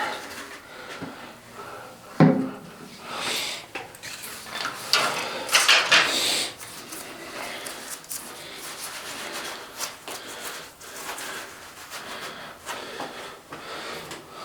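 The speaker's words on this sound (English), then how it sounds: "Looks like we're going to have to use the auger." A toilet auger works through a clogged toilet, making irregular scraping, rubbing and grinding sounds with a sharp knock early on and bursts of gritty friction, all close by.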